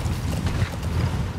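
A horse gallops in Metal Gear Solid V: The Phantom Pain, its hoofbeats a steady, muffled run of low thuds, close and continuous, with no talking.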